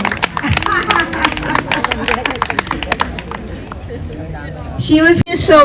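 Many hands clap loudly and irregularly in an audience at the Humjoli Deepotsav event, with crowd babble and a voice talking over the sharp claps. The clapping thins toward the end before a louder burst of noise.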